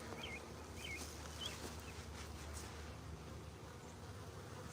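Faint, continuous buzzing of a honeybee swarm on a farm, with a few brief bird chirps at the start and no talking.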